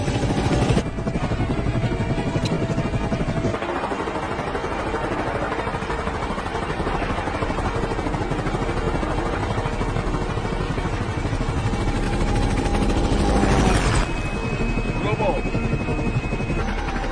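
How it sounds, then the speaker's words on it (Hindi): Helicopter in flight just after takeoff in a film scene, a loud steady rotor and engine roar holding throughout with clattering blade noise, continuous and close. "हमने उड़ान भर ली है।"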